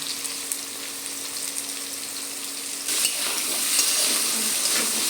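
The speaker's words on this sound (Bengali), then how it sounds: "লবণ দেওয়ার পর এটাকে লাল লাল করে ভাজবো" Potatoes fry in a pan with turmeric and salt, giving a steady close sizzle that grows louder and brighter about halfway through, with a few light stirring scrapes and no talking.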